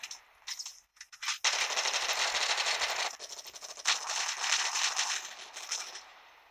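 Rapid bursts of RPK machine gun fire in the mobile shooter Modern Strike, loud and close with a sustained rattling stream and a few brief pauses, alone without talk.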